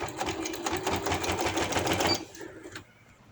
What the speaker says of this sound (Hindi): इसे ऊपर से जोड़ते हुए इस तरह से नीचे से या ऊपर से, तो इसकी भी सिलाई लगा दूँगी